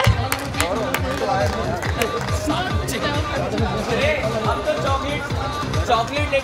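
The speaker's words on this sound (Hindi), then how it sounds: "जोरदार तालियां" An audience at a family get-together breaks into loud, sustained clapping, dense and steady from start to finish, with crowd chatter mixed in.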